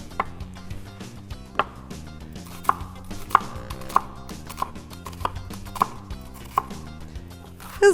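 Onions are chopped quickly with a knife on a cutting board, a rapid series of soft, crisp taps at a fairly steady rhythm with a few sharper knocks, quiet and close.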